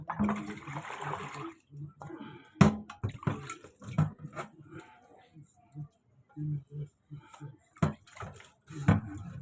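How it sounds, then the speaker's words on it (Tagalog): Water splashes and runs in short, irregular bursts while a frying pan and plates are rinsed by hand, with intermittent clatter and a voice speaking over the washing. "So, unang sabon na yan, unang banlaw, susunod, malinis na tubig para sa susunod na banlaw."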